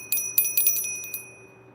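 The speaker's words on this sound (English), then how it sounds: "ring the bell" A small hand bell rung several times in a quiet room during a late-night ritual, bright metallic strikes ringing out in a quick irregular series and fading between hits, with no voices.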